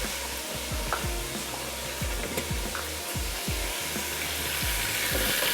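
Ginger garlic paste fries in a hot pot of spiced oil for biryani, a steady close sizzle with periodic scraping stirs and clinks of a spoon against the pot.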